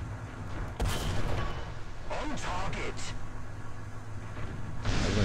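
Heavy tank cannon blasts from the video game War Thunder ring out over a constant engine rumble, with a sharp boom near the start and another near the end.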